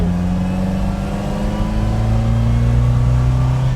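1960 Lotus Elite engine pulling hard and close, with a steady rising drone as it accelerates through the gears; no talking over it.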